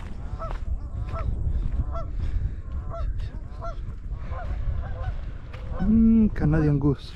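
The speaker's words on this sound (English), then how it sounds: "Canadian goose." Canada geese honk repeatedly at a lagoon, loud harmonic calls coming in quick bursts near the end over steady outdoor boat and wind noise, with fainter honks earlier.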